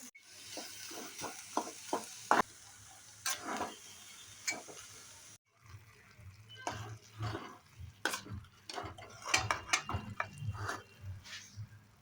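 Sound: stirring modak filling syrup cooking in pan

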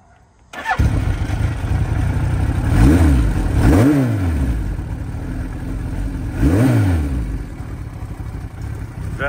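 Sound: vintage motorcycle engine starting and revving

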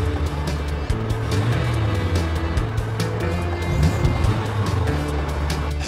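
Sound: car driving past in an audio drama

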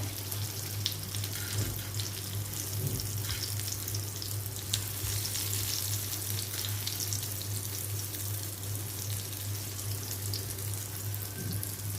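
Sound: raw banana slices frying in oil in a pan

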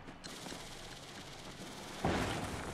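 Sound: explosion in the video game Paper Mario: The Thousand-Year Door

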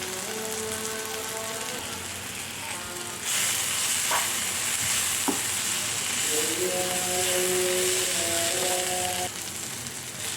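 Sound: frying ivy gourd with spice powders in a pan

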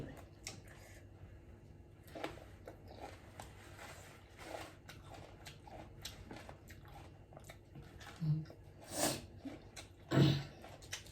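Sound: chewing crunchy cabbage with mussels

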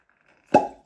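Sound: cork popping from bottle of homemade apple and hops sparkling wine

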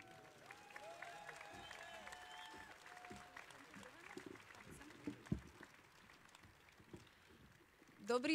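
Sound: audience applause at a rally

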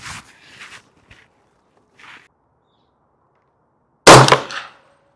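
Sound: gunshot from PSA Jakl 300 Blackout pistol

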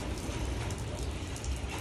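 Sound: heavy rain falling

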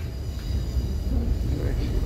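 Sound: train arriving at station platform

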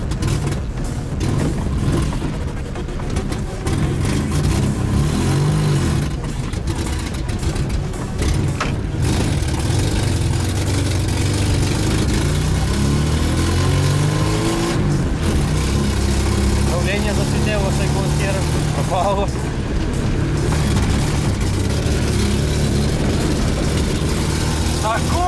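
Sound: VAZ 2107 car driving, engine running

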